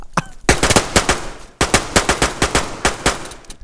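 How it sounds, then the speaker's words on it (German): Rapid gunfire in the DayZ video game during a multiplayer firefight, loud sharp shots in quick irregular bursts with a short pause between volleys. "Ich werde gerade selber beschossen hier"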